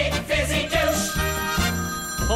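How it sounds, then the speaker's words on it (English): A telephone rings indoors in a short run of repeated electronic tones with a melodic pattern, loud and close, with no talk over it. "Hold it, everybody. That's my phone."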